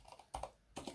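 Quiet typing on a computer keyboard during Linux system repair: two short clusters of soft keystrokes within a second, close and alone.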